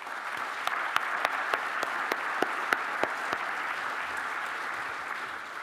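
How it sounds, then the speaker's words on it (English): Audience applause from a large crowd at an evening event in a lecture hall, steady dense clapping with a few sharper individual claps standing out, sustained throughout with no talking. "Please give them a very big round of applause."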